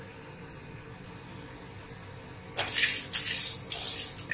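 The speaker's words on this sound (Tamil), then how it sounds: "ஹீட் பண்ணிவிட்டு நம்ம அந்த எடுத்து வச்ச பொருள் எல்லாத்தையும் போட்டு அப்படியே வறுக்க வேண்டியதான்." Masala ingredients are dry roasted in a heated pan for mushroom masala: after a quiet stretch, loud scraping and clattering of a utensil against the pan in short repeated strokes.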